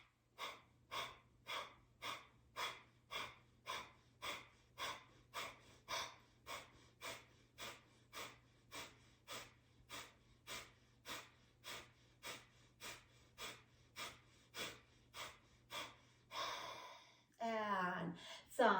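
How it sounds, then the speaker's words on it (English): Rapid, rhythmic pumping breaths push out through the nose during a yoga breathing exercise, a steady train of about thirty close, sharp exhales over a faint low hum, ending with a longer breath and a brief shuffle. "we'll pump through the nose in the lower belly"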